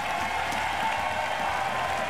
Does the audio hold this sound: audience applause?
yes